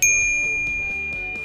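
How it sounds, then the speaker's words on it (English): A Nog Oi bicycle bell struck once, giving a bright, clear metallic ding that rings on and slowly fades over the whole moment, heard alone and close up. "Nog also offer the surprisingly desirable Oi Bell, which looks like this and sounds like this."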